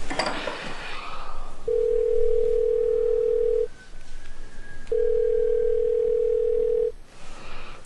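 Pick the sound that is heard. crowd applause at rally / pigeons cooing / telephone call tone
telephone call tone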